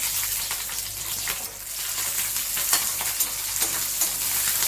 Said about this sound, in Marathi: पण बारीक जास्त मिरच्या परतून घेऊ